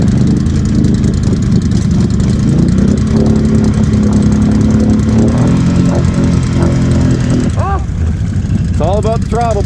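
Polaris Sportsman HighLifter ATV on 32-inch Assassinator tires revving in water, a loud rumbling engine that climbs in pitch under throttle, with splashing churn and excited voices talking near the end.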